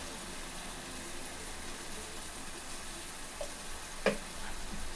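Chicken pieces hitting hot oil in a pan with softened onion and a spoonful of turmeric for gongura chicken curry, giving a steady close sizzle with a brief louder spatter near the end and no talk.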